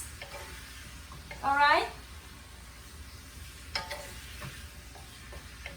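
Pork is stirred in a wok with Worcestershire sauce, giving soft scraping and a faint sizzle with a few light clicks, while a voice speaks briefly.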